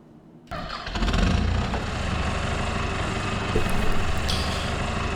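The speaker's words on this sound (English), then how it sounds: "Considering this tractor was parked for a few months now, it starts like a charm." An old Renault farm tractor, parked for a few months, cranks and fires up after a brief quiet moment, then settles into a loud, steady, close diesel idle with some rattling.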